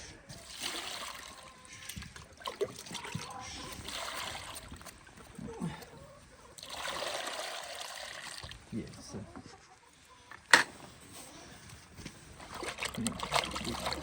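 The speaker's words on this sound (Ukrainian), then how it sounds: "Наливаю холодну воду." Cold water is poured out in two splashing, sloshing bursts while a pig carcass is being butchered, with people talking nearby and a sharp knock in between.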